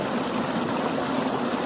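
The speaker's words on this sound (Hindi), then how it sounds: "ट्यूबवेल से पानी जा रहा है" Water from a village tubewell pours steadily into an irrigation channel that carries it to the crops, a dense, continuous rushing gush heard close up, with no voices over it.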